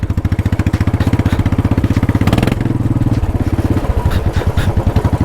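A Royal Enfield Bullet motorcycle runs with its silencer fallen off after the nut worked loose, giving a loud, raw, rapid thumping exhaust beat that holds steady and close for several seconds, with slight shifts in revs.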